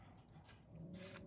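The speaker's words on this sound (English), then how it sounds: "sorry about the dog" Faint dog whimpering behind a steady background hum, a short soft whine rising near the end of the brief stretch.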